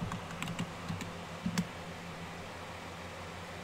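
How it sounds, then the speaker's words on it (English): A few quick keystrokes tap on a computer keyboard, short soft clicks in a brief burst followed by quiet background hiss. "And we're going to type mute one time."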